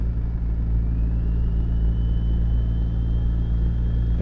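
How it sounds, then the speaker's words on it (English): A heavy truck engine's steady low rumble in Euro Truck Simulator, with a faint turbo whistle rising and holding above the drone, loud and continuous with no talk. "This one's got lots of turbo noise."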